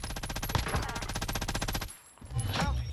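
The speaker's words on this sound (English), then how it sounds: "I can see the guy shooting at you" Rapid automatic gunfire rattles in the Warzone video game, a loud close burst of evenly spaced shots that breaks off briefly and then resumes.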